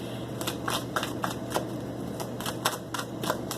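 Tarot cards are shuffled in quick repeated riffles, a series of crisp papery flutters close by with a soft background hum.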